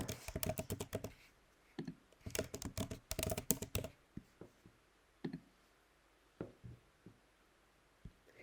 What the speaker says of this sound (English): Type in their name, username, and password.